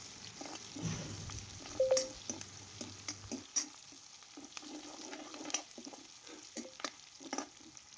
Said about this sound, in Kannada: ಕಡಾಯಲ್ಲಿ 5 ಟೇಬಲ್ ಸ್ಪೂನ್ ಆಯಿಲ್ ಹಾಕ್ಕೊಂಡು ಹಚ್ಚಿಟ್ಕೊಂಡಿರೋಂಥ ಒಂದು ಈರುಳ್ಳಿ, ಕರಿಬೇವಿನ ಸೊಪ್ಪು ಹಾಕ್ಕೊಂಡು ಗೋಳಿಸ್ಕೊಳ್ತಾ ಇದ್ದೀನಿ